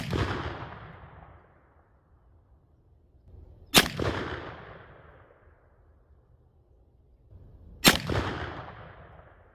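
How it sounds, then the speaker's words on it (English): Three Winchester Super X .410 three-inch quarter-ounce slugs fired from an NEF Pardner SB-1 youth single-shot shotgun outdoors at 25 yards, each a sharp loud report with a long fading echo, spaced about four seconds apart. "we'll shoot over here at this right target and see what we get at 25 yards for our second 3-shot group"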